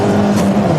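A car engine pulls hard and revs upward in a short, loud, close burst, steady in tone with no voices.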